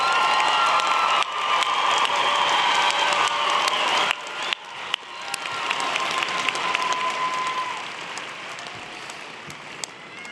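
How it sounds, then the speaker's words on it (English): An audience at a university convocation applauds sociology graduates with sustained, dense clapping and a few cheers, loud in a large hall, tapering slightly toward the end. "Please join me in applauding all of our sociology graduates."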